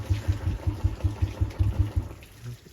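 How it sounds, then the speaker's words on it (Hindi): A motorcycle engine putters at idle after starting, a low, regular chugging pulse of about a dozen beats, close by, fading slightly toward the end. "बाइक को करते हैं अभी स्टार्ट करके चलिए"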